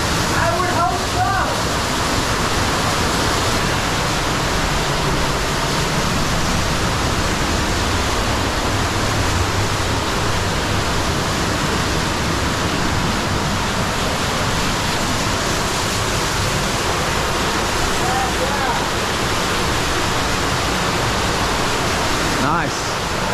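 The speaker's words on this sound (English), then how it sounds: "You want to see a big waterfall?" A large backyard waterfall pours deep underground, giving a loud, steady broadband roar of rushing water that fills the whole stretch, close and unbroken throughout.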